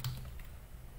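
Soft keystrokes on a computer keyboard, a few quick taps close by and quiet, with no talking.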